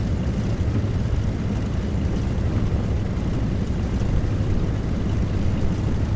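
Small propeller airplane taxiing at night on an airport taxiway, its engine a steady close low drone filling the whole stretch with no change in pitch.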